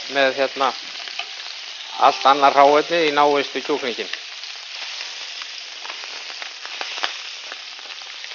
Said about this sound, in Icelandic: Svona brúna ég kjúklinginn.